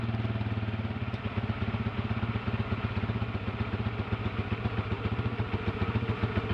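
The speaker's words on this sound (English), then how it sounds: "Got the compressor here. We're going to get that going." A 12-volt tire compressor powered by a GOOLOO GP4000 jump starter chugs steadily with a rapid rhythmic piston clatter and low hum, close by and moderately loud, with no voices.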